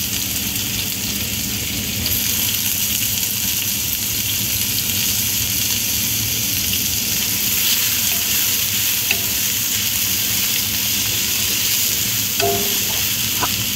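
Spices and beef frying in a pan while being stirred, a loud steady sizzle with scraping stir sounds running throughout, close and continuous.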